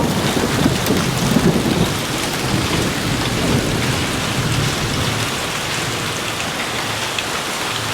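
A storm with pea-sized hail brings a dense, steady patter and hiss across a surface, like heavy rain. It is loud and continuous throughout, with a low rumble that swells in the first couple of seconds.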